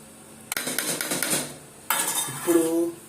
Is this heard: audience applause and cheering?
no